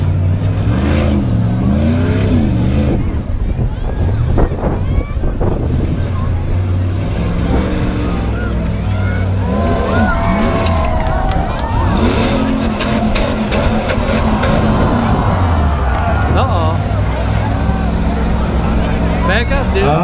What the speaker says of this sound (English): Chad is on the move in his full-size Dodge pickup truck